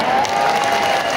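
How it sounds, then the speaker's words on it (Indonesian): Applause from an audience at a formal welcoming speech in Indonesia, a steady wash of clapping that holds at full level through the whole brief moment, with no pauses. "tepuk tangan untuk beliau"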